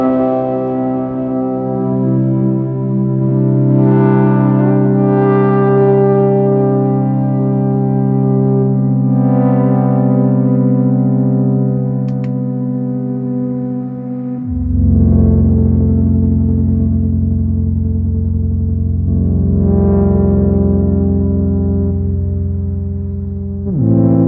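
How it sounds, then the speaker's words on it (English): Arturia MicroFreak pad with reverb and delay from a Digitone: sustained, harmonically rich chords that swell and hold, shifting to a lower chord midway, with echoing tails and no voices. "go full pad here, and I'll bump up the reverb and the delay on my digitone for the effects"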